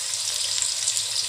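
Onion frying in hot oil gives a steady, bright sizzle, close and continuous, with no other sounds over it.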